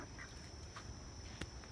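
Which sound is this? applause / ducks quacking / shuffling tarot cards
ducks quacking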